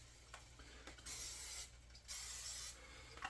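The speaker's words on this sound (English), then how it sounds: "So we're going to put some non-stick on the pan." Non-stick cooking spray hisses onto a pan for pancakes in two sustained bursts of about half a second each, with faint clicks of the can between them, close and clear with no talking.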